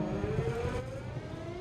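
An EMD SD40 diesel locomotive engine in Train Sim World 2 runs with a deep, steady rumble and a slowly rising tonal whine, close and continuous, with no talk.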